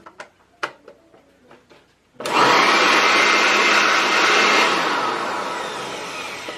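Miniature leaf blower impeller motor spins up abruptly after a few soft taps and clicks, then whirs loud and steady with a rushing airflow hiss that slowly eases off.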